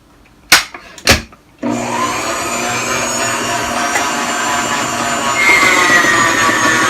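An electric stand mixer kneads wet Hawaiian roll dough, starting after two sharp knocks and then running as a loud, steady whir that grows slightly stronger toward the end.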